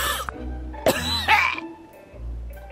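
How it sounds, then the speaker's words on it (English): A character in the video game Manual Samuel coughs and clears his throat after breathing in a mouthful of water, giving a few sharp, close bursts separated by short pauses over a low steady game background. "He has to cough."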